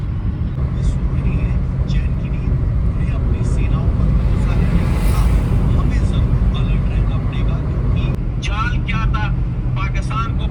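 Steady road roar and engine hum from inside a car cruising fast on the Samruddhi Expressway at night, loud and constant throughout while someone talks over it.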